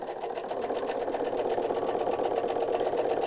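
Electric sewing machine stitching up the side of a fabric gift bag, a steady continuous whir with a fast needle rhythm running close and loud throughout.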